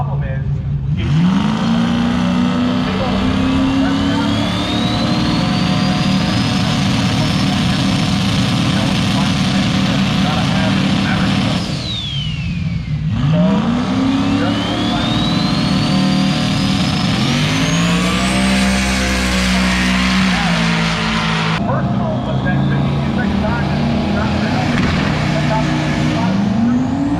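Powerful drag race cars make a pass at a drag strip, engines roaring loud and continuous with rising revs and gear changes across several runs, a steady crowd-and-engine wash underneath.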